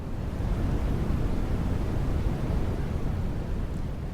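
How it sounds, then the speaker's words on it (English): A steady, broadband hiss of white noise sits dense and even across the whole stretch, loud and unchanging with no gaps or other sounds. "White noise is an aleatory signal in which all frequencies have the same intensity"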